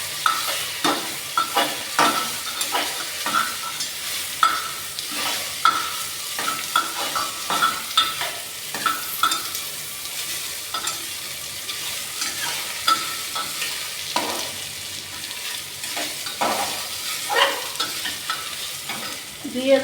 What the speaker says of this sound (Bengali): একটু সামান্য নেড়ে নেবো, ভাজা ভাজা করে নেবো।